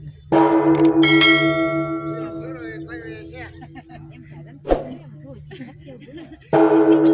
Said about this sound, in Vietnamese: nhà thờ đang đánh chuông